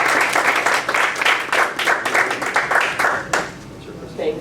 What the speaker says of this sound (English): Please give a warm round of applause to Siranush Vardanyan.